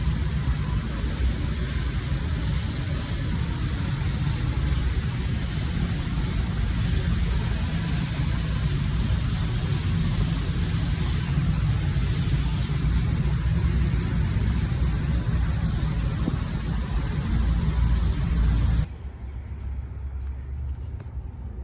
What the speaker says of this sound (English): Driving home in a Kia K5.